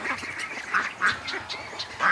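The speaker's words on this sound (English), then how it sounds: "Man, there's a lot of pretty little ducks." Ducks quacking in a pen at a homestead with Muscovies nearby: several loud, separate quacks at irregular intervals, fairly close, over a soft murmur of other birds, with no talk.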